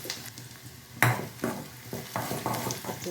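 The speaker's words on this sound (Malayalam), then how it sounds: "ഈ ചുവന്നുള്ളി നമ്മൾ നല്ലോണം മൂക്കണം കേട്ടോ" Shallots crackling in coconut oil in a pan, a close, crisp sizzle broken by several stirring scrapes and one louder clank near the one-second mark.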